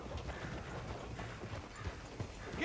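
Horse hooves clip-clop at a steady walk through a quiet frontier town in Red Dead Redemption 2, soft and even beneath an ambient bed of insect buzz and dusty air, with a faint rise near the end.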